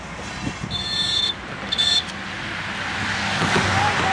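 Road vehicles pass along a village road near a river, heard as a moderate rolling rumble with two brief high horn-like tones early on and a traffic drone that builds toward the end.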